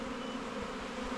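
Honey bees hum in a steady, dense drone inside a hive opened for inspection on a rainy day, close and continuous with no voices.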